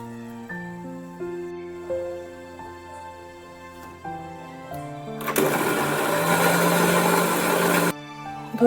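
An electric grinder pulping coriander leaves, mint leaves and green chillies with a splash of water into paste, a loud, rough whirring burst for a few seconds after humming tones, cutting off sharply, no talking.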